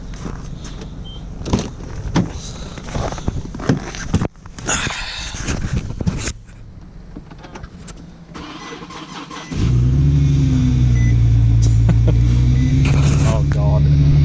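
A 2010 Infiniti G37X engine cold starts after some clicks and handling sounds, catching with a loud steady idle that holds to the end while people talk earlier.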